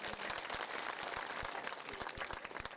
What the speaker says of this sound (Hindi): उनके लिए ताली बजाते हैं